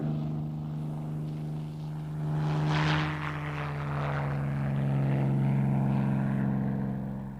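Spitfire prototype fighter overtaking and flying past an accompanying plane, a steady propeller-engine drone with strong low harmonics that swells and shifts in pitch as it passes, continuous and fairly loud with no talk.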